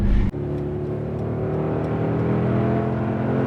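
A 2019 Mercedes-AMG G 63 twin-turbo V8 SUV engine roars up to a steady, loud drone right after a brief sharp burst at the start, holding a strong low rumble throughout.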